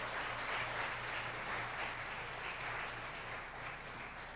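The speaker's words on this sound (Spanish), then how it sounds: "Si estás convencido, dale un aplauso a Él." Church congregation applauding during a Sunday service, steady sustained clapping from many hands throughout, moderately loud with a faint low hum beneath and no talk.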